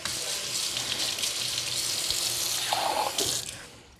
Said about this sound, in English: I'm going to add a couple tablespoons of some really warm water